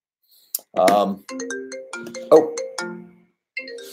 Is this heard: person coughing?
no